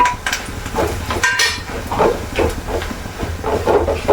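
Spice powders sizzle in hot oil while sardine pickle is cooked, a steady loud hiss with scraping stirs and soft pan clatter throughout.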